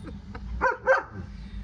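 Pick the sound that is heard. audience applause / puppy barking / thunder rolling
puppy barking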